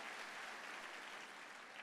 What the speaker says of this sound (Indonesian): tepuk tangan buat Tuhan yang dahsyat